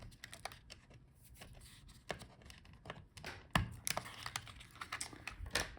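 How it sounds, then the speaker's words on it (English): Small clicks, taps and plastic scrapes come from close by as the battery is disconnected inside an HP ProBook 445 G11 laptop, with irregular fiddly handling at low volume. "So let's start with disconnecting the battery."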